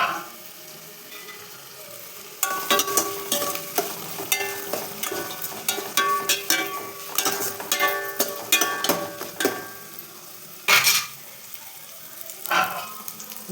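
Food sautéing in a pan crackles softly while a spatula scrapes and knocks against it in irregular bursts, with quieter pauses between strokes and no speech.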